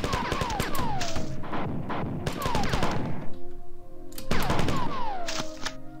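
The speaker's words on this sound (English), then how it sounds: "so we're going to use our machine gun" Rapid bursts of machine gun fire from Bungie's Marathon video game, loud repeated volleys mixed with descending whines and game effects, several clusters across a few seconds with brief pauses between.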